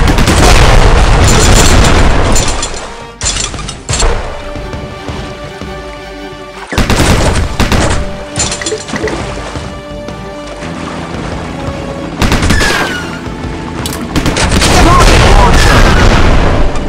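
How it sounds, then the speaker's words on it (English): Gunfire from a heavy machine gun in the mobile game Ramboat 2 comes as loud, dense bursts and booms in long stretches, broken by brief quieter gaps, with game effects layered over it. "Heavy machine gun!"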